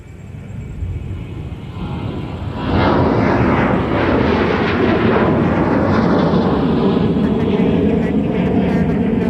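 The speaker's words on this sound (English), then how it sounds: "So that southwest departure is headed to Austin." A Southwest Airlines jet takes off from Minneapolis–St. Paul airport, its engine roar swelling abruptly into a loud, sustained, broadband rumble that dominates the scene.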